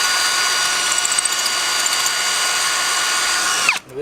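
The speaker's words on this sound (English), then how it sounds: "So let's go ahead and drill this." A power drill bores into material during an air conditioner install, a loud continuous high whine running for nearly four seconds before cutting off sharply as the motor winds down.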